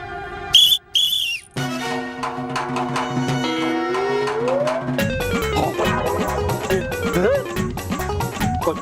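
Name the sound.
whistle being blown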